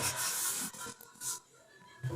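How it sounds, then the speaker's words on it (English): A rough scraping and rubbing, like something dragged across wood, comes in a few short close strokes with brief quiet gaps between them. "The scraping."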